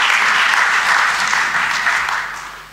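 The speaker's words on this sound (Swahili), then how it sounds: "Mpigieni makofi mengi kabisa" A large audience at a government launch event applauds a newly appointed deputy minister, dense sustained clapping close and loud that fades out toward the end.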